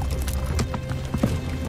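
Horse hooves from a Game of Thrones episode clop in a few uneven, close thuds as the horse turns around, then the sound cuts off abruptly.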